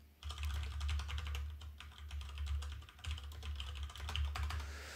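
A computer keyboard clatters steadily as a Python script is typed, close and continuous keystrokes in quick bursts over a low steady hum, with no voices.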